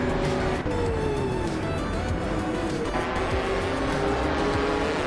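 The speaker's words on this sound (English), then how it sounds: "Newts is driving a 2018 Toyota FT1 GTE" In a racing video game, a 2018 Toyota FT1 GTE race car runs with a constant loud engine drone and shifting pitch while other cars roar around it.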